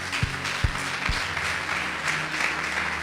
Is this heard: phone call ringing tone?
no